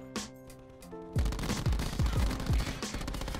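Rapid bursts of automatic gunfire in a first-person shooter game, several sharp loud shots in quick succession after a brief quieter stretch with tonal game sounds.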